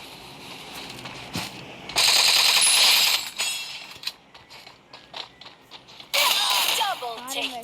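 Shotgun gunfire in a video game sounds as loud, dense bursts of blasts with mechanical clacking, separated by quieter stretches of game sounds.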